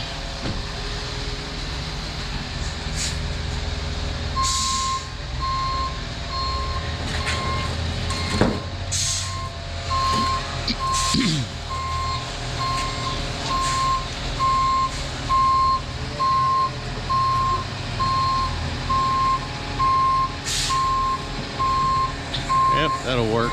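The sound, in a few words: cement truck reversing with beeps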